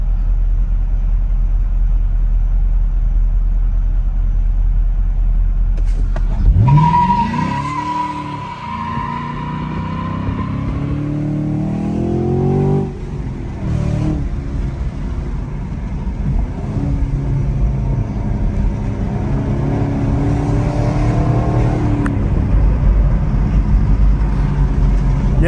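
A 2023 Camaro SS V8 muscle car revs and accelerates hard at night from a low idle, rising through the gears with a deep, loud, close exhaust roar, then cruising with no talk.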